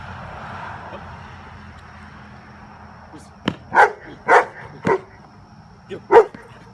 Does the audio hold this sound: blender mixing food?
no